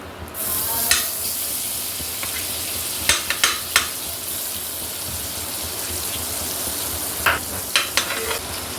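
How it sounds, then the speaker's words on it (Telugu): Butter sizzling steadily in a pan as the base for a paneer masala curry gravy, a continuous frying hiss with a few brief louder clatters and stirring sounds, close and without talk. "ఇప్పుడు మనము గ్రేవీ తయారు చేసుకుందాం. బటర్ వేసుకుందాం."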